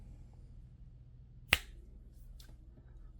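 A single crisp finger snap rings out near the middle of a quiet room, followed by a couple of faint clicks, with no talking.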